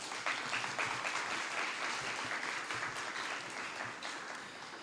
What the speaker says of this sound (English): how about another round of applause for your summer school principal, Ms. Mazariego.